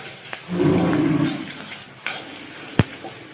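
Dried red chillies frying in a pan, a short burst of sizzling followed by a few sharp clicks of a spoon against the pan, close and fairly loud.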